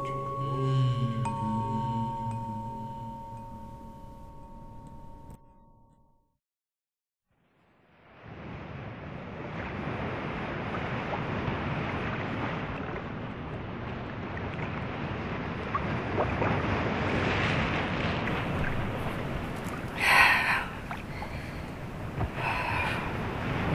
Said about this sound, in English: God, that ocean is so big.